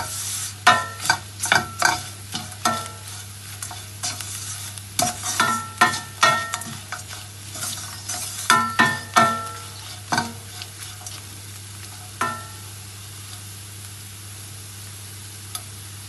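Chili powder frying in oil, a soft steady sizzle beneath repeated sharp spoon scrapes and stirs against the pan, busy early then thinning out to occasional strokes.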